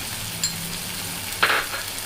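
Tomato and spices frying in oil in a pan for jackfruit sabzi, a steady close sizzle with a sharp utensil clink midway, no talking.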